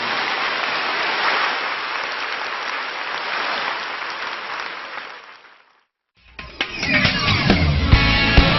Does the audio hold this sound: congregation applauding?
yes